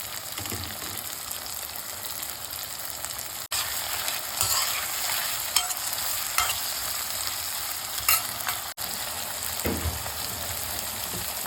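Cauliflower sautés in a pan with a continuous sizzling hiss, while a utensil makes occasional clinks and scrapes as the pieces are stirred.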